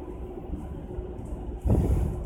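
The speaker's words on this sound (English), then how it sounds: "I'm on the train still." Steady low rumble inside a moving train carriage, with a continuous rolling roar that swells louder near the end, no voices heard.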